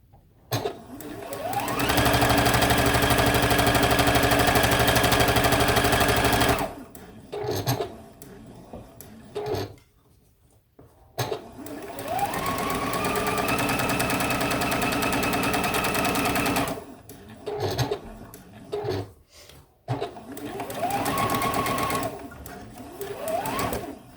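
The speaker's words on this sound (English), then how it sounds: "I'm just going to sew my leaves." A sewing machine stitches quilt leaves in fast continuous bursts, three long runs of rapid motor whirring separated by short pauses and a few handling clicks.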